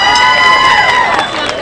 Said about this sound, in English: Let's give that young man a nice big round of applause.